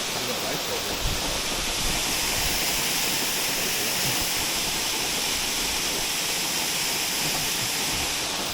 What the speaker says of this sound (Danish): der er også vandløb her